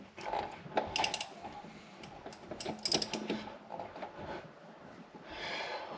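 Wrench ratcheting on a Subaru EJ25 engine in a Forester during engine removal, with irregular bursts of close metallic clicks and clanks separated by short pauses, faint shuffling in between.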